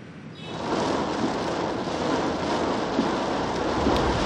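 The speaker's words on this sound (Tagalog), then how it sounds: "bumuhos ang malakas na ulan na may kulog at kidlat" Heavy rain pours in a dense, steady roar throughout during a storm with thunder and lightning in Metro Manila, with a low rumble of thunder underneath, loud and unbroken.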